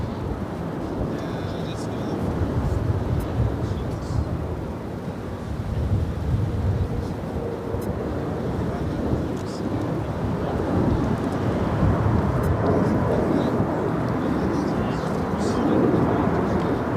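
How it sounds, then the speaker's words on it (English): Asiana Airbus A380 passing overhead on the downwind leg near LAX, a deep, rumbling engine drone rising and falling over wind buffeting on the microphone, with people talking. "Flying overhead on the downwind leg, we have the Asiana A380"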